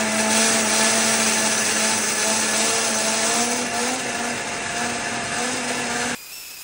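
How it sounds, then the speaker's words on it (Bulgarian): A blender whirs loudly and steadily as it purees frozen fruit and milk into a smoothie, its motor pitch rising slightly as it runs, then cutting off abruptly near the end. "днес ще се опитаме да направим смути с замразени плодове и мляко"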